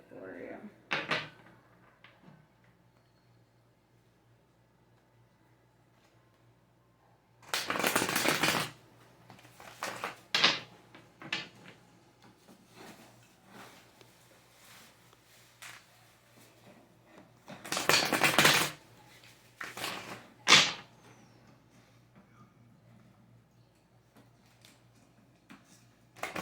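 Tarot cards being shuffled, two loud bursts of riffling and flicking a few seconds long with scattered taps between, close and otherwise quiet over a low hum.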